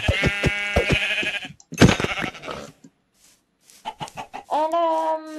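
Minecraft sheep bleating in a video game, several close, clear bleats with harmonic tones, separated by short pauses, alone without talk.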